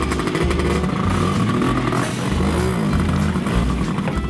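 A motorcycle engine revs and pulls away nearby, loud throaty bursts rising and falling over a few seconds.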